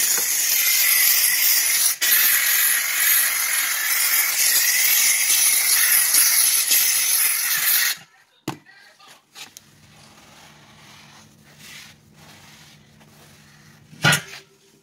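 A McCulloch 1385 steam cleaner blasts loud, continuous steam hiss onto baseboards for about eight seconds, then cuts off, leaving quieter clunks and handling noises with one sharp knock near the end.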